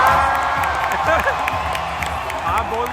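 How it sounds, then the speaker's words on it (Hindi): A stadium crowd at the Paris Olympics shouting and cheering continuously, dense and loud, with whoops and scattered claps rising out of the roar. "That's why the stadium was shouting like crazy"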